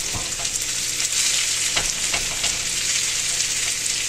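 Paella in a wide pan being stirred and pressed flat with a spatula, a steady close sizzle of frying rice with scraping strokes against the metal, no voices.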